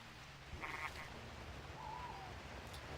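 Game frogs in Paradise Marsh give a short croaking call over a steady low ambient drone, with a brief tonal chirp partway through and no voices.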